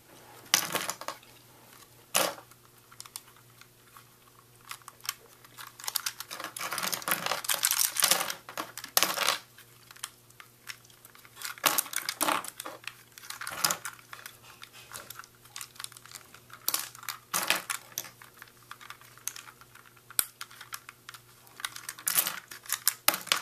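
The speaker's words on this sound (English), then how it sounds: "I'm just turning the pieces and letting them fall out." Small plastic model kit pieces clatter and tick as they drop loose from a turned sprue, a steady stream of light, close clicks and rattles with no talking.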